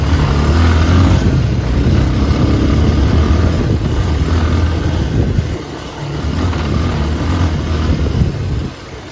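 A motorbike rides over a rough, dangerous off-road track, its engine roaring steadily and close with heavy rumble and wind buffeting, dipping briefly before surging again.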